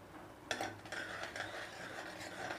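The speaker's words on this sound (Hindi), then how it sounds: "रेड चिली पाउडर ऐड कर देंगे और इसे मिक्स कर लेंगे" A spoon stirs turmeric and red chili powder into tomato and oil in a cooking pan for a bottle gourd curry, making soft scraping and clinking strokes over a quiet background sizzle.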